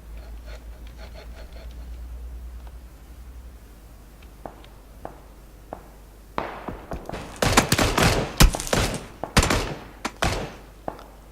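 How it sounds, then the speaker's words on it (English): Enemy fire in the video game Battlegrounds, first faint and distant, then sharp, loud cracks of gunshots in clustered bursts close by, ringing out irregularly over several seconds, with no talk. "Yeah, those two are firing at us."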